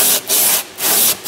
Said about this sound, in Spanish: Es coger una tabla, pegar un trozo de lija y lo haces con el tamaño adecuado